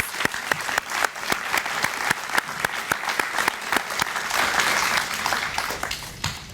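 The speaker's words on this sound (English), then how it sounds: "Let's give them all a round of applause." Audience applause at an evening Boy Scouts of America award reception honoring Eagle Scouts, a steady room-filling clatter of many hands with sharp individual claps standing out, sustained at moderate loudness throughout.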